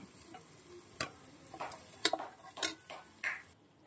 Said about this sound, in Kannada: ಇವಾಗ ಇದರ ಹಸಿ ಸ್ಮೆಲ್ ಹೋಗುವವರೆಗೂ ಚೆನ್ನಾಗಿ ಫ್ರೈ ಮಾಡ್ಕೊಳ್ಳೋಣ.